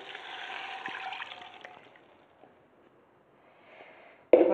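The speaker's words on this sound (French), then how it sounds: "Je vais ajouter un peu d'eau." Water poured into a pan to make a small sauce, a steady splashing pour for about two seconds that trails off to near silence, then a sudden sharp clatter at the very end.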